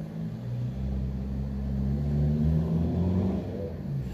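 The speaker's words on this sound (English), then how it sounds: "Going through the no entry sign in his private vehicle." A private car rolls past a no entry sign on a road, its engine rumbling steadily and swelling slightly as it accelerates, heard close and alone with no talk.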